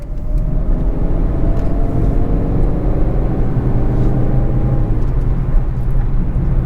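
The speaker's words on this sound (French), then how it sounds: "j'écrase l'accélérateur, hein, je donne tout" A 2015 Citroën C3 1.6 HDi 75 BlueHDi diesel car accelerating at full throttle, its engine a loud, steady droning rumble that holds without a break from start to finish.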